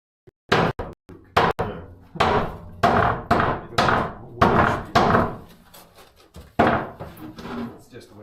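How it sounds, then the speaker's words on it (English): A hammer strikes wood about a dozen times in an uneven rhythm, each blow a loud close thud with a short ringing decay, and a voice talks between some of the hits. "Use the potential force that's created with the hammer."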